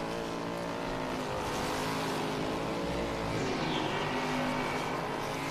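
A Formula 4 race car on the final lap of an F4 U.S. race, engine droning continuously at high revs with a steady, fairly loud roar and no pauses.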